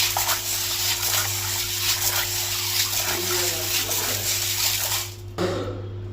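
Silver items washed in water, a steady close rush of running water over a constant low hum, briefly broken near the end before resuming.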